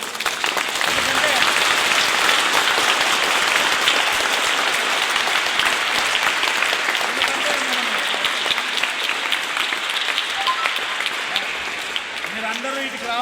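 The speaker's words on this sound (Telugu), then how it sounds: "మీరందరూ క్లాప్స్ గట్టి కొట్టాలి మీ తల్లిదండ్రులు." Audience at a taekwondo competition clapping, a dense, steady burst of applause that fills the whole stretch and only eases slightly near the end.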